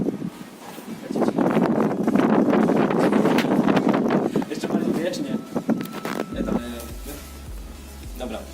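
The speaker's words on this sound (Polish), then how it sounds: "wieje wiatr" Gusty wind buffets the microphone in a steady low rumble inside an old abandoned granary, with brief sharp crackles and faint voices underneath before it settles quieter near the end.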